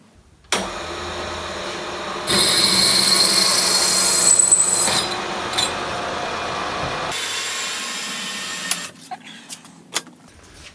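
A power drill grinds steadily through a metal bicycle frame tube for several seconds, loud and close, then winds down with a few scattered clinks and knocks.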